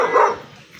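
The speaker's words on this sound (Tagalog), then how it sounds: "Ay, may aso. Matatapang." A single short, loud dog bark close by, followed by a quick fade into quiet.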